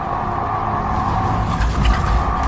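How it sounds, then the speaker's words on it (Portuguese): A farmer's car approaching, its engine a steady low rumble with broadband road noise that swells slightly toward the end, with no talk over it. "O adolescente fica paralisado quando ouve o carro do fazendeiro se aproximando"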